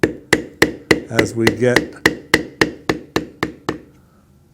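A metal beveling tool is struck repeatedly with a mallet while carving a dragon design into leather, producing a steady run of sharp, close taps that fade out near the end, with a few words spoken briefly in between.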